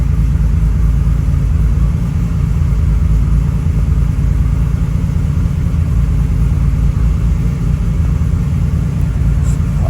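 A Toyota 2JZ engine fitted with a big turbo and a Haltech ECU idles on a dyno, giving a loud, close, steady low rumble with an even throb that holds unchanged throughout.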